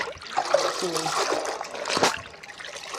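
A soaked cotton kurta fabric is lifted and handled in water, giving close trickles, drips and soft splashes, with a brief louder slosh near the end.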